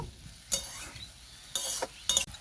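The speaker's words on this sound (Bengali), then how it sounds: "সবজিগুলোকে খুব ভালো মতো করে আমি ভেজে নেব।" Chopped vegetables fried in a pan for vegetable rolls, with three short bursts of scraping, sizzling stirs separated by quieter frying, close by and without talking.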